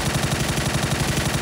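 Rapid machine-gun fire from PUBG gameplay: a steady, fast string of evenly spaced shots, loud and close, running continuously with no pauses and no talking.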